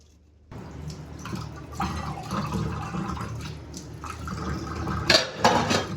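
Dishes and utensils washed in water at a kitchen sink: running water with clinks of pots, cutlery and clattering items, louder knocks near the end.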